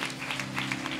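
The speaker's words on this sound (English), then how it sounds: "Will you clap your hands and bless God?" A church congregation claps at a service, a brief, soft burst of scattered hand claps over a steady low hum.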